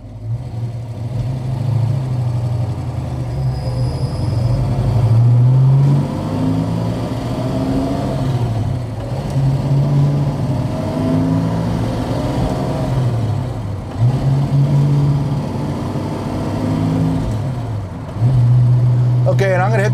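A 1970 Ford Mustang Boss 302 V8 revs loudly and accelerates through the gears, with rising and falling engine tones and brief dips between shifts, close by throughout.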